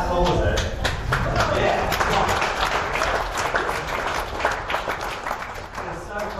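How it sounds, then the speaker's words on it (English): Crowd at a packed, standing-room political meeting in Dunedin, New Zealand breaking into a steady, full round of applause that stays loud throughout and thins slightly toward the end, with voices mixed in. "I'll just give yourself a big round of applause for coming out."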